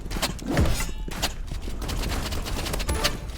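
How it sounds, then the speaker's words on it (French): Shotgun blasts and other gunfire crackle in the Roblox shooter Rivals, several sharp sudden bursts scattered across a few seconds with thumps and shattering between them. "je vais prendre fusil à pompe"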